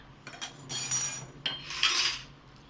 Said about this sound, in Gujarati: મિક્સ કરી ફટકડીમાં પાણી અને ફટકડી એકદમ મિક્સ કરી